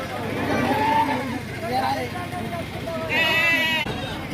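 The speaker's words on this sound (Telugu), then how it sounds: "చూసుకోవచ్చండి, గొర్రె పోతులు." Rams at a livestock market bleat in several wavering calls, close and fairly loud, with crowd chatter and market noise underneath and a higher, sharper bleat near the end.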